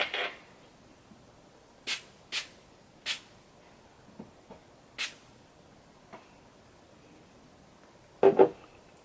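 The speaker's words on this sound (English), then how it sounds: "to set my face, I'm just going to use this one by e.l.f. It's a makeup mist and set spray." Several short bursts of e.l.f. makeup mist and set spray hissing from a pump bottle in a quiet room, spaced a second or so apart, with a cluster of faint handling knocks and a closing double burst near the end.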